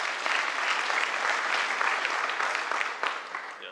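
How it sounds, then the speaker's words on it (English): A conference audience at Monitorama claps for an incoming speaker, a full, lively burst of applause that holds steady and then begins to fade toward the end. "let's give a big round of applause for Victoria Metric"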